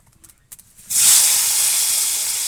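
Eggplant slices dropping into hot oil burst into a loud, sustained frying hiss after a few soft knocks, continuing steadily and close.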